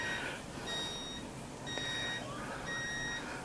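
A Geiger counter in alarm near an old clock gives repeated bursts of thin, high electronic beeps in evenly spaced groups, faint and close over a quiet room hiss.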